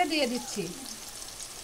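Ginger garlic paste sizzling in hot oil after browning for chicken balls, a bright crackling sizzle under a brief spoken phrase, fading to a softer steady fry.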